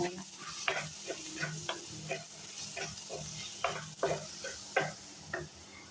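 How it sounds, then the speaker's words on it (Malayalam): Onions sauté in a pan, a quiet steady sizzle under repeated scraping stirs of a spoon against the pan that come in short irregular strokes, close, with no talk. "സവാള നന്നായിട്ട് വെന്ത് വന്നിട്ടുണ്ട്, നന്നായിട്ട് വഴന്ന് വന്നിട്ടുണ്ട്"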